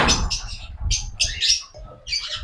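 Lovebirds and cockatiels kept as pet birds for sale chirp and tweet in a rapid, busy chorus of short, bright calls, fairly close and steady throughout.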